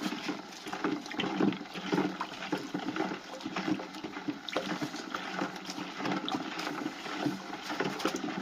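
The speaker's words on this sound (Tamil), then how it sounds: "ரெண்டுலேயும் 3/4 பங்கு நம்ம பூநீர் சேர்க்குறோம்." Water poured into two containers until about three-quarters full, a continuous sloshing, gurgling pour with small splashes, moderately close and without talk.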